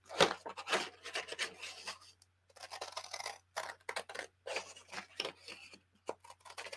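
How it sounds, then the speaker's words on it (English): Paper trimmed with scissors along a scored line for a junk journal, a run of short crisp snipping and rasping cuts in uneven bursts with brief pauses, close and fairly quiet. "I'm going to grab my scissors and I'm going to trim right along my score mark here at the bottom"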